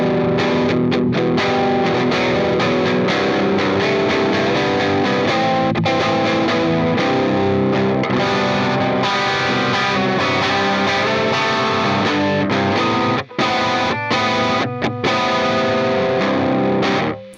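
Electric guitar played through heavy overdrive, thick and distorted, strummed chords ringing loudly and continuously with a few brief stops near the end.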